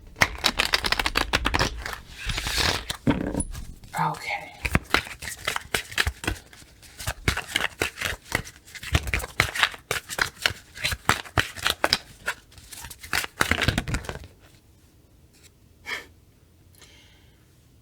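Tarot cards shuffled by hand in repeated riffling bursts, close and fairly loud, with a brief spoken word and a quieter tail near the end.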